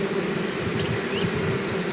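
Honey bees fanning their wings at the entrance of a freshly installed nucleus hive to spread homing scent, a dense, steady close-up buzz with a constant drone and shifting wingbeat whine, no talking.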